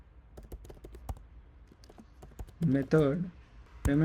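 Computer keyboard typing while entering a MySQL join query, with a rapid run of clicking keystrokes close up, followed by someone speaking briefly over the keys.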